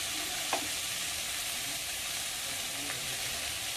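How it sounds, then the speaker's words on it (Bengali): Potatoes sauté in a pan with an unbroken, even hiss of frying oil, steady and moderately quiet, with only a couple of faint ticks of movement and no talking. "এবার আলুটা কষে নেব।"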